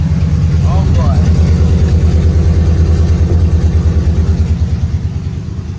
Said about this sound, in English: Just see how it runs. It sounds like it's misfiring a little bit.